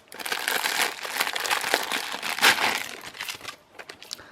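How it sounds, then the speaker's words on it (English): Plastic package of beaded ribbon trim crinkling and rustling as it is torn open by hand, a close, continuous crackle of crumpling plastic with sharper tearing bursts, no voices. "I'll open one package up so you guys can see if it'll open here without the scissors."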